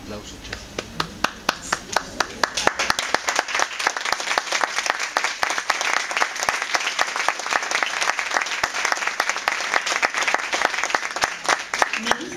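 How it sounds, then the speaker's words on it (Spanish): Sustained audience applause from a crowd at an Argentine talk, with dense rapid clapping that swells in the first seconds and holds steady and loud throughout, a voice briefly audible early on. "Un aplauso, che."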